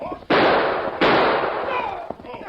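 Two loud, sharp gunshots ring out about 0.7 seconds apart in a Western radio drama, each with a long, noisy tail that decays slowly, followed by a fainter distant pop.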